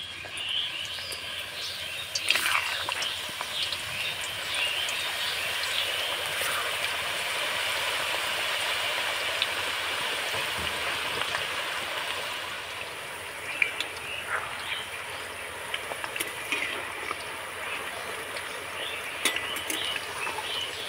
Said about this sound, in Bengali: এবার চিপসগুলো আমি ভেজে নেব। এবার আমি তেলের মধ্যে ছেড়ে দেব।